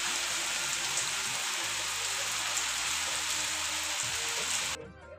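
Steady, dense rain patters on a surface, a constant hiss that suddenly cuts off near the end.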